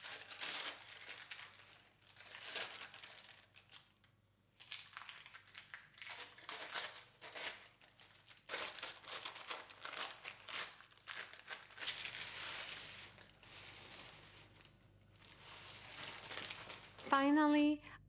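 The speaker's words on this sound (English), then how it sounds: "I gently gradually lift the pizza bread until the paper is peeled off and removed" Baking paper peels slowly away from the underside of a garlic pizza bread with soft, intermittent crinkling and rustling, close and fairly quiet, ending with a brief clink.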